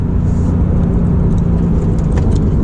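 A Porsche 911 991.2 engine drones loud and steady from inside the cabin as the car downshifts, a dense low rumble holding without a break.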